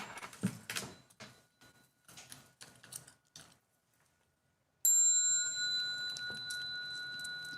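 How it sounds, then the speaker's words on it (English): Several bright bell strikes ring out during a Buddhist sutra recitation in a monastery, each a clear metallic tone with a long sustained hum, following a stretch of soft chanting, then a pause of near-silence before a loud final ring. "Bell sound"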